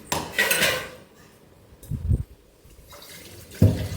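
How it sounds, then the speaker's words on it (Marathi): Water splashes into a pan of roasted masala for spinach sev bhaji, with a loud initial pour, then two shorter gushes and clinks of metal cookware, close by with no voices. "ह्याच्यामध्ये आपल्याला पाणी टाकायचं आहे"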